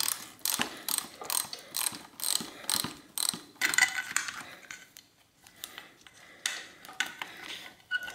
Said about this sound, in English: there's a little nut in the back here. And so I'll go ahead and remove that.